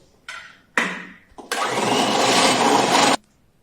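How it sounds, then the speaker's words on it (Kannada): An electric beater whipping Milkmaid condensed milk with Amul cream: two short whirring bursts, then a longer steady high-pitched buzz lasting over a second before cutting off. "Using this beater, I'm going to beat this."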